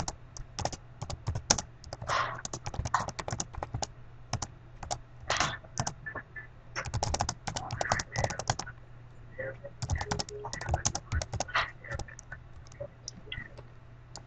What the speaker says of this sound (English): You're typing ferociously.